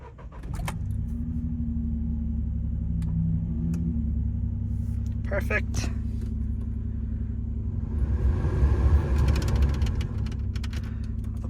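A VW Up GTI fires up from cold and settles into a steady, low rumbling idle, close and continuous, with a few light clicks and a brief spoken word.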